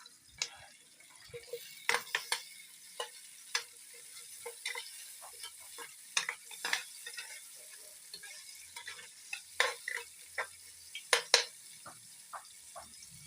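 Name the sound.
sautéing aromatics before adding leftover crab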